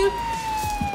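A brief siren tone holds high and steady, a wailing emergency-vehicle pitch lasting under a second with some low rumble beneath.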